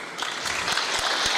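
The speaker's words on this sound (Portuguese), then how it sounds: "E palmas pelo teu resultado também" Audience applause at a legal debate event, a dense burst of clapping from a room full of people, steady and moderately loud throughout, no voices over it.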